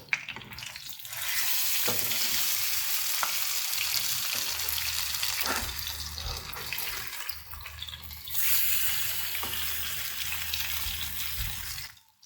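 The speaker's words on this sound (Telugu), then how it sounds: "మీడియం ఫ్లేమ్లో పెట్టుకుని మాత్రమే ఫ్రై చేసుకోవాలి" Fish frying in oil over a medium flame, a dense, continuous sizzle that stays loud and close throughout, with a few brief knocks and a surge partway through.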